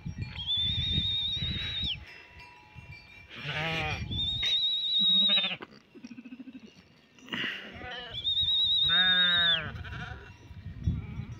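Sheep bleat loudly and close by, several drawn-out nasal calls in a row at a hillside farm in Tehri district, mixed with rustling and handling noise and no talk.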